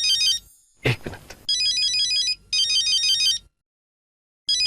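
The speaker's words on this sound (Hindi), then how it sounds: "शेट्टी का फोन।" A synthetic electronic ringtone plays in repeated bursts separated by short pauses, with a brief sharp noise in one gap.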